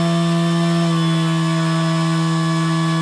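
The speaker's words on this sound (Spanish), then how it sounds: "el sonido del motor redujo las revoluciones" Electric motor of an RC airplane running on a redundant battery setup, a loud steady tonal whine with strong harmonics that drops slightly in pitch partway through as one battery is removed, no speech.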